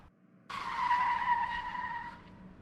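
Car tires skid and squeal sharply in a near collision in an animated scene, a sudden shrill screech lasting about a second and a half before cutting off, loud and close with no talk over it.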